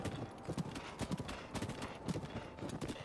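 Horse galloping in The Legend of Zelda: Breath of the Wild, with a rapid, steady rhythm of hoofbeats running throughout over a busy in-game background.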